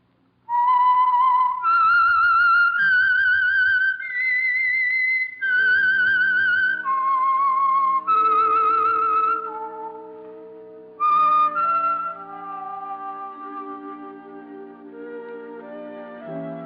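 A bright whistled theme melody from a 1946 radio program rises and falls for several phrases, then fades into soft sustained orchestral chords.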